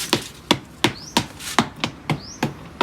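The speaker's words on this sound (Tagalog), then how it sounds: "kaya niya pinupukpok just to shake yung lupa para sa ganun ay yung pagkadikit doon sa pot ay matanggal" Repeated sharp knocks as a plant pot holding a cycad is pounded to loosen the stuck soil, nine or so hard, evenly spaced thuds close up with faint scraping between them, no talking.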